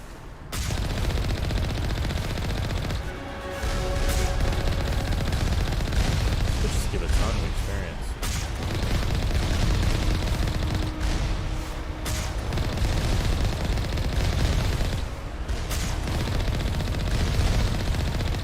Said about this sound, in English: We got tons of cannons on this